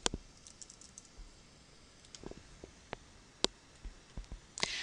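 Sparse, quiet key clicks tap out at an uneven pace on a nearby keyboard, with short gaps between bursts.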